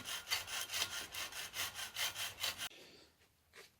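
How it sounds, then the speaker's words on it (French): A hand saw cuts through a pump tube clamped loosely in a vise, with steady rhythmic back-and-forth rasping strokes close up, then a brief quieter scrape as the cut finishes. "Tout doucement je vais découper en tournant légèrement."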